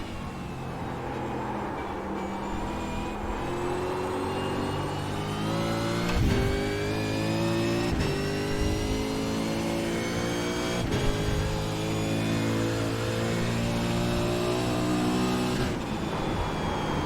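A supercar in a racing video game revs hard through the gears, its engine note climbing steadily and dropping sharply at each downshift, loud and continuous with no talking.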